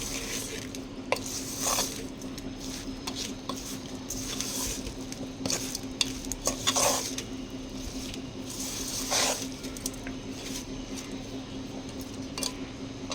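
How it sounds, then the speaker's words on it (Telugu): A spoon repeatedly scrapes and stirs through a thick small-fish curry with tamarind-leaf powder in a metal pan, with intermittent clanks and a soft steady hum underneath. "అది కూడా ఒకసారి అంతా మిక్స్ చేసుకుందాము"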